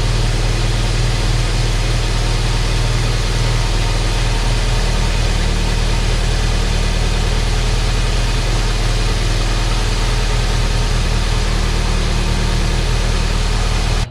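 A pre-facelift Toyota MR2 Spyder with gutted pre-catalytic converters idles steadily, giving a constant, loud, droning engine hum with a rough exhaust hiss and no voices.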